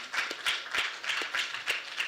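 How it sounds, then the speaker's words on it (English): At a finance leadership forum, a small group claps briefly and sparsely, a few separate moderate hand claps in an uneven rhythm with no voices. "Give yourselves a round of applause."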